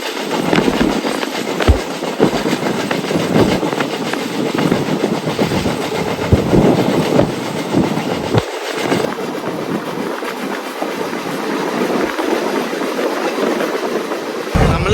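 The Poorna Express, running from Ernakulam toward Pune, creeps slowly over a bridge at about 20 km/h, giving a continuous close rumble with rattling, clanking wheel beats and metallic squeals throughout.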